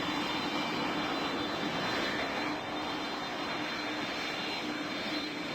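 Steady, loud airplane engine drone in the Roblox flight game PTFS, a continuous broadband roar with a faint high whine running unbroken throughout, with no talk over it.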